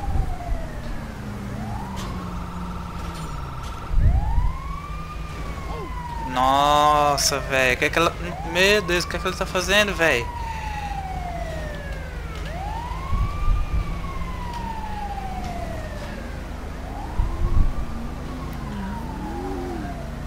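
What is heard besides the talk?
ambulance siren arriving, from video game GTA V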